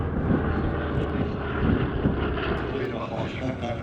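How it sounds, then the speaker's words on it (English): At an airshow, a Lockheed Hudson twin-engine bomber, the only one still flying, takes off, its droning engine roar loud and steady over wind buffeting, with a voice talking over it. "the world's only Lockheed Hudson takes to the air also"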